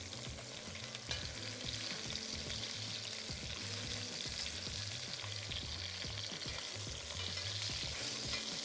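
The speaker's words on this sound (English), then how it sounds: "Once the ribs have released from the pan, we're going to turn it over and brown it on the second side." Short ribs browning in a Le Creuset Dutch oven with a light sand interior, giving a steady close sizzle of frying meat with occasional scraping and stirring sounds.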